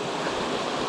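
Water rushes steadily over slippery rocks and fallen trees in a trout stream, a dense close wash that holds constant without a break.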